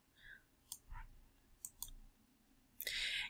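Computer mouse clicks while continuing through a QuickBooks Online sign-in screen: a few sharp, quiet clicks spaced apart, ending in a brief louder burst, with no talking.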